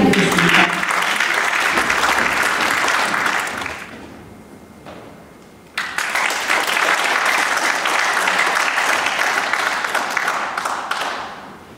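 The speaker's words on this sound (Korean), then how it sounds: "뜨거운 박수 부탁드리겠습니다." Audience at the Koryoin Village children's choir autumn concert at the Asia Culture Center applauds the performers and pianist, loud sustained clapping that dips to a quieter lull midway, then surges back strongly before tapering off.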